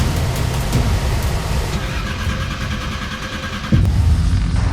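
Two Subaru rally cars race on after colliding with each other, their engines droning close by at a steady mid pitch before a louder surge near the end.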